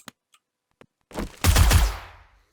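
Gunfire from a gun in the survival zombie game 7 Days to Die: a few faint clicks, then a loud burst of shots lasting about a second that trails off.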